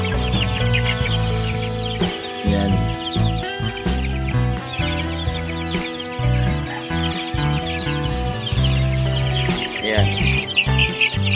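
Chickens and chicks in a backyard farm cluck and cheep continuously, close and loud, with overlapping calls and no talking.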